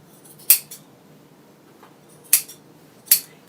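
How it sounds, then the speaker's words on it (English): A large pair of fabric scissors snips through cloth during theatre costume draping, three sharp separate cuts with quiet pauses between them, close and clear with no talk. "It's good to have a really nice big pair of scissors when hacking away at fabric"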